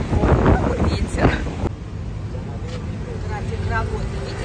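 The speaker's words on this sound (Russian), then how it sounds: "Вот, какой ветер." Strong wind buffets a microphone outdoors in Turkey, with loud low rumbling gusts heaviest in the first second and a half, then a steadier blustery roar; someone talks briefly under the noise.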